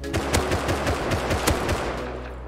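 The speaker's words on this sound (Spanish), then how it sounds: "¡Me disparan!" Gunfire in the survival video game Rust: rapid automatic shots in close, loud bursts, firing steadily and then tapering at the end.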